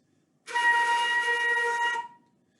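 A single shrill, breathy high note on a flute, overblown by blowing too hard over the mouthpiece hole, held steadily for about a second and a half before stopping.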